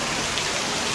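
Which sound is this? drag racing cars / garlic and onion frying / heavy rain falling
heavy rain falling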